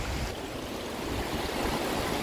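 Clear lake water pouring forcefully over its overflow, a dense continuous rushing roar heard up close with no voices.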